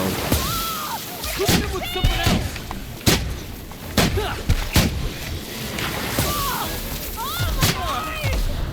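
Repeated gunshot bursts from weapons in The Outer Worlds, sharp booming hits scattered across a busy game soundscape with effects and music, while someone talks over them.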